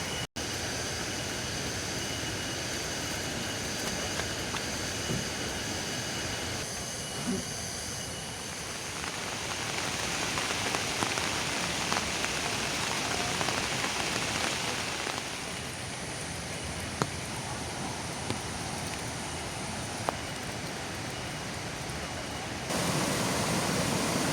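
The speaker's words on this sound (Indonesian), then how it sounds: "di imah hujan badag euy" Heavy rain pours down steadily in a small village, a dense continuous hiss that fills the whole stretch with only faint variation.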